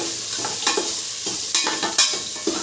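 Soybean chunks are stirred into fragrant tempered spices in a hot pan, with several close scraping strokes over a continuous frying sizzle and no talk.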